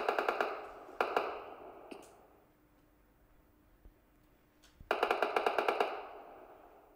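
Rapid bursts of automatic gunfire in a multiplayer shooter practice scrim: a string of sharp cracking shots up front, a few scattered single shots over a quiet stretch, then another fast volley near the end.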